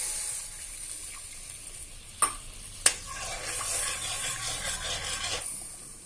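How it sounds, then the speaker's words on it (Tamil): Milk poured into hot caramel in a pan for bread halwa gives a steady close sizzle and bubbling, with a utensil stirring and two sharp knocks against the pan partway through. "இப்போ இதில் பால் சேர்த்துக்கலாம்."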